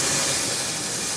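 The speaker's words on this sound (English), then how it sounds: "open your steam valve like that" Steam hissing from an opened valve on a steam car, a loud, continuous broadband rush that holds steady throughout the short moment without pause or speech.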